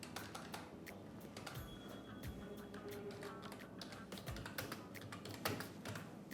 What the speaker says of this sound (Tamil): அந்த மிஷின்லேருந்து அவங்க டைப் பண்ணுறாங்க